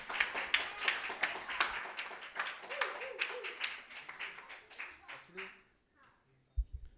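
A church congregation claps for Jesus in a burst of quick, uneven hand claps that thin out and fade to near silence, with a voice or two underneath.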